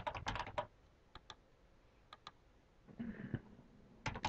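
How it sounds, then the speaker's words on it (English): Sparse, crisp keystrokes on a computer keyboard while entering database settings, a quick flurry at the start, scattered single taps, then another short burst, quiet and close in a still room. "Now, this is where you would type in, obviously,"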